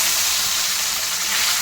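Pieces of katla fish fry in hot oil with a loud, continuous, bright sizzling hiss that holds steady throughout, with no voices over it.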